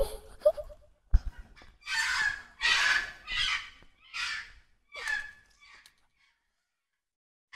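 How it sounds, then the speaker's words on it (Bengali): Free-range desi chickens on a farm squawk and cackle loudly as they are caught by hand: a series of about six harsh, close bursts, each lasting roughly half a second, with short gaps between them and no talking. "মুরগিটা কক কক করছে, মুরগিগুলা পালিয়ে যাচ্ছে"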